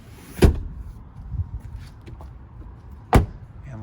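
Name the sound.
car trunk lid being closed on Acura TLX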